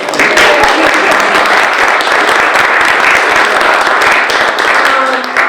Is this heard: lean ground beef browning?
no